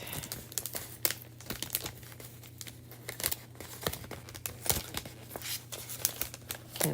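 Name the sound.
opening and tearing a sealed plastic package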